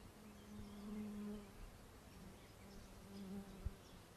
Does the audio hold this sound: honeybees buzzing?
yes